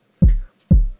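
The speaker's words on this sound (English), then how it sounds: "this thing has a drum machine, fairly simple drum machine" A simple drum machine in the MS-20 iPad app plays two punchy, close kick-drum hits about half a second apart, each followed by a short decay.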